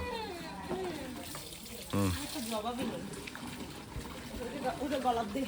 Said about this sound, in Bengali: তোমার জামাটা ধুয়ে দিই দেখো